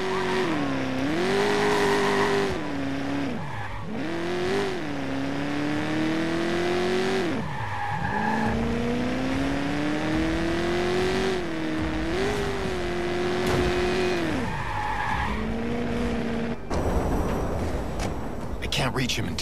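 Car engine pitch rising and falling through gear shifts with tire skids and squeals in Watch Dogs on PS4, loud and continuous, joined by a brief burst of other game noise near the end.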